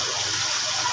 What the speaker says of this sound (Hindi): घी डाल के इसके अंदर ब्राउन करें।